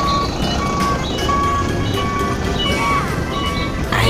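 A truck manoeuvres back and forth in a factory yard after unloading timber, its engine rumbling steadily while evenly spaced reversing beeps repeat clearly over it.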